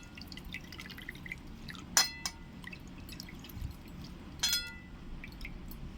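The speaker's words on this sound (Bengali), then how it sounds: "সব জলকে বের করে নিতে হবে আম কাসুন্দি করার জন্য।" Water drains out of mango pieces being prepared for mango kasundi, heard as scattered close drips and a few sharp splashes against a faint hiss in a quiet room.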